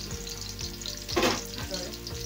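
Tomatoes frying in a hot pan for succotash (githeri), a close steady sizzle with a brief louder hiss swell midway and faint periodic scraping, no talking.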